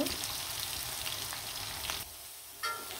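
Potatoes fry in a pan, chicken being cooked alongside, giving a steady, close sizzle with soft crackle that dips briefly before resuming, no talk.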